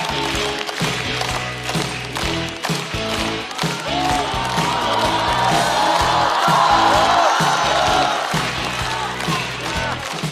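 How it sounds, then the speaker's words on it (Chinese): A stand-up comedy audience bursts into applause and cheering as a comedian is welcomed on stage, loud sustained clapping with whoops and thuds that swell toward the middle and carry on throughout. "掌声欢迎孟川。"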